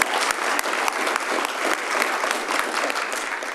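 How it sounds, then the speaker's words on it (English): An audience at a city council meeting applauds with steady, dense clapping that fills the room, loud and sustained with a few sharper claps standing out. "let's give them a round of applause"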